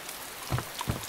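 Rain pattering down in the survival video game DayZ, soft and steady with a few louder drops falling close by. The hiss stays faint and even throughout, and no one speaks.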